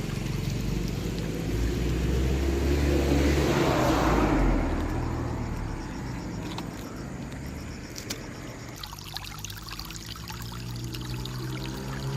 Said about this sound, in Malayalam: ഈ വെള്ളം പൊട്ടി പോണ ഈ ഇത്രത്തോളം വെള്ളം അത് നോക്കിയേ